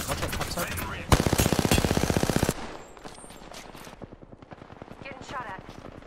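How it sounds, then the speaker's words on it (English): Heavy automatic gunfire in a multiplayer shooter video game: a loud, sustained rapid burst that cuts off abruptly, followed by scattered lighter shots and game noise with voices underneath. "Getting shot at."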